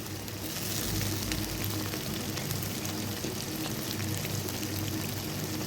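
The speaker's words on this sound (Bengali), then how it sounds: "হাফ কাপ মতো টমেটোর কেচাপ দিয়ে দিলাম।" Tomato ketchup is poured into spices frying in oil for a chickpea curry, giving a steady dense sizzle and hiss throughout, fairly quiet and close, with no voices.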